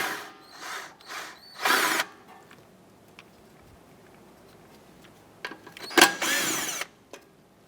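Power tool spinning a 10mm socket to remove nuts on a 2004-2008 Acura TL's suspension knuckle, heard as a few short close bursts early on and again later, with quiet gaps between them.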